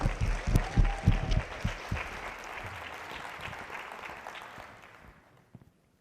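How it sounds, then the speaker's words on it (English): Applause from a talk audience welcoming a former Top Chef Junior contestant, starting with a few loud claps and speech, then settling into steady mid-level clapping that fades out over several seconds. "So please give a sincere round of applause"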